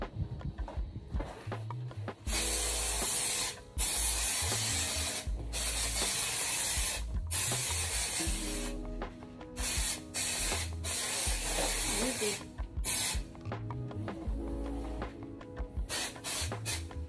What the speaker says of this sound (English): rolling the foam and then spraying it